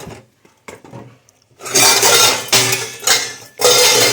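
A small pressure cooker and pots are handled, with loud metallic clatter and scraping in bursts after a quiet start, near and without talk.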